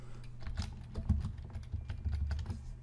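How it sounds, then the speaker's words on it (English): Fingers tap briskly on a computer keyboard nearby, a quick run of soft clicks over a low background hum. "you'll just click each area, type your name,"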